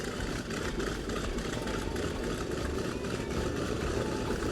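A World War II bomber's piston engine runs at the airfield during an air expo, giving a steady, rumbling, moderately loud drone that holds throughout.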